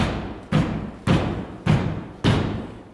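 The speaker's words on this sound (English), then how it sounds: "you get the thump of their feet onto that ground" Dancers' feet thump on a wooden floor, giving five loud, evenly spaced thuds about half a second apart. Each thud is heavy and close and rings out briefly before the next one.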